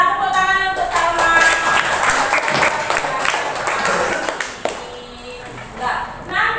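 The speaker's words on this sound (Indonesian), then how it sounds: "tepuk tangan untuk Salma" A classroom of students claps for a classmate, dense applause holding steady for several seconds before tapering off toward the end.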